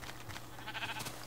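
Sheep bleating in the video game Minecraft, a few short nasal bleats in quick succession over steady game background sound, moderately loud and close.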